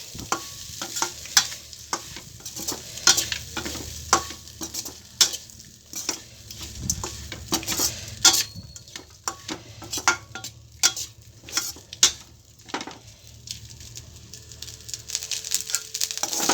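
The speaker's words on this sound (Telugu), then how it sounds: "మన అన్నాన్ని ఆ సీక్రెట్ పౌడర్ని కలిపేసుకున్నాం" Cooked rice being mixed with a spice powder for pulihora, steady stirring and scraping of a spoon against a pot with faint sizzling underneath, a run of close clinks and taps over about sixteen seconds, with no talking.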